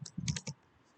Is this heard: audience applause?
no